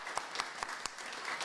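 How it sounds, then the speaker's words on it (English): Applause from an audience at a live fundraising event for a hospital mammography fund, a short patter of claps at moderate level with a few sharper individual hand claps standing out. "So I'd like to give her a round of applause."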